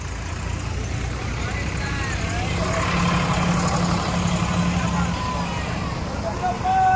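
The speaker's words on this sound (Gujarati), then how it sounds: "જો આ પાછળ બીજું ટ્રેક્ટર ત્રણ ત્રણ ટ્રેક્ટર એકી સાથે" Tractor engines, three running together, rumble steadily in the background, low and continuous, with crowd noise and voices mixed over them at a Ganesh immersion procession.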